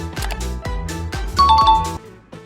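A bright doorbell-style ding-dong chime, the kind used as a subscribe reminder, rings out over a busy musical backing, standing clear and loud near the end of the passage.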